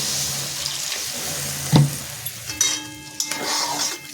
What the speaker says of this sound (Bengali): এবার দিয়ে দেবো জলটা পরিমাণ মতো